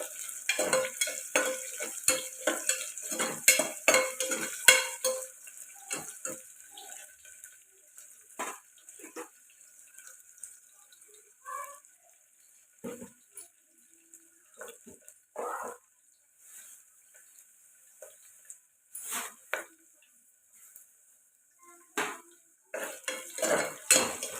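Curry leaves and tempering stir-fried in a pan for tomato dal, with a spatula clattering and scraping against the metal in irregular bursts over a light sizzle, busier at the start and sparser later.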